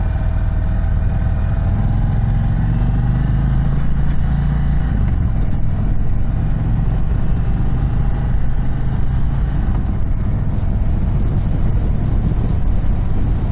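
A 2022 Indian Chief motorcycle engine running during a ride, a loud low continuous rumble blended with heavy wind buffeting, steady throughout with no clear voice.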